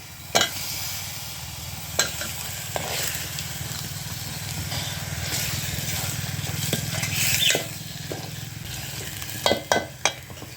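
Chopped brinjal pieces go into cooked masala on a wood-fired village stove, giving a steady moderate sizzle broken by a few sharp utensil knocks and scrapes.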